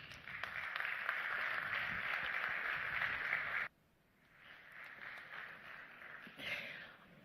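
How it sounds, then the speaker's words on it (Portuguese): Sustained applause from an audience at a panel event welcoming a speaker, a steady broad clapping that cuts off abruptly, followed by quieter room noise and faint movement. "Vamos dar as boas-vindas com um forte aplauso a Maria Inês Pedroso"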